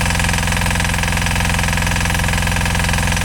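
A Yanmar YDP20N single-cylinder diesel engine idles steadily with a fast, even knocking pulse, loud and close throughout, no voices; it may be burning oil.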